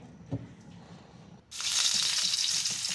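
Onion goes into a little hot oil in a wok. A quiet stretch gives way abruptly to a loud, close, crackling sizzle that then continues steadily to the end.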